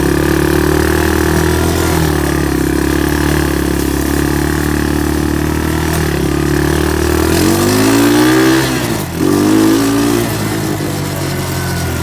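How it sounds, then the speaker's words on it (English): A Honda TRX200SX quad's engine idles loud and close with a steady, fast idle. The pitch dips and wavers briefly near the end before settling back to its even drone. "Been running, the idle's up quite a bit, so I could probably turn it back down."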